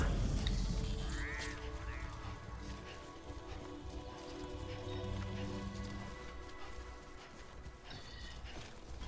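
Steady rain in the video game Death Stranding, a continuous wash of droplets pattering on surfaces with a low rumble underneath, holding at a fairly even level throughout.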